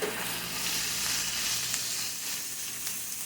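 Bell peppers and onions sizzling in grapeseed oil in a skillet, a steady close frying hiss with soft crackles and no talking.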